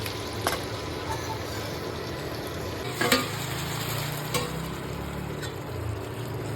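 Marinated okra stir-fried in oil in a pan, a soft continuous sizzle with occasional sharp clinks of the spatula, close and fairly quiet, no talking.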